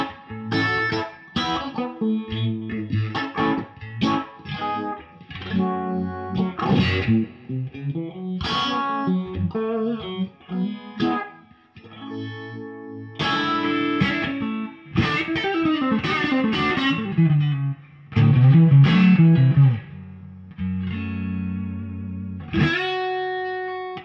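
Dale Wilson Masterbuilt Stratocaster electric guitar played on the bridge and middle pickups, with a lively run of picked notes and chords, some bends and pauses, effects-tinged and close, no talking.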